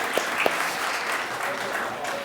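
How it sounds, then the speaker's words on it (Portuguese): Audience applause for a performer named Saulo at a Portuguese-language Easter event, steady broadband clapping from a crowd across the whole clip with a couple of sharper claps near the start. "Dá uma salva de palmas pro Saulo aí"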